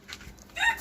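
Backyard hens clucking in short, soft bursts at close range, with a brief sharper call at the end.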